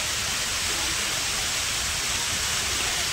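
Artificial waterfalls at Shilparamam in the evening roar in a dense, unbroken hiss of cascading water, steady and fairly near, with no voices or other sounds.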